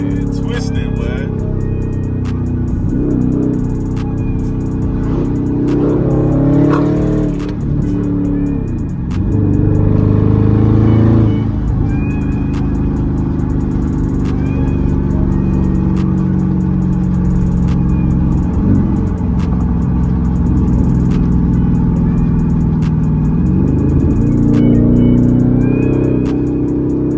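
A Dodge Charger SRT with straight pipe exhaust rumbles and revs repeatedly, the engine swelling and dropping in loud bursts under close, ongoing talk.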